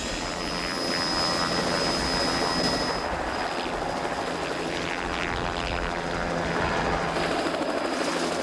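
Helicopter flying over Okrabis during an African wildlife capture, a steady broadband rotor and engine drone holding at constant loudness throughout with no voices.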